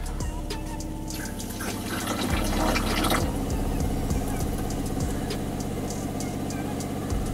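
Water flows into a camping-car tank and its pipes. A steady rushing, gurgling fill runs throughout, close and moderately loud, with a brief surge near the middle.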